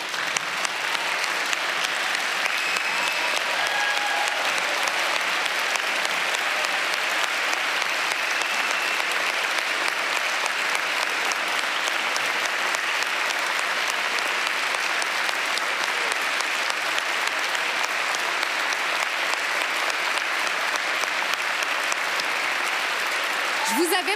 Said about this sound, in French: je vous invite finalement à vous lever pour applaudir une dernière fois les lauréats et lauréates des Prix du Québec